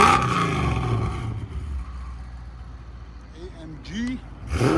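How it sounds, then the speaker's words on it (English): A supercharged 2004 Mercedes E55 AMG V8 fitted with headers and an X-pipe rumbles steadily at close range, with a brief roar at the start and end and chatter and voices over the idle. "V8 compressor supercharged beast."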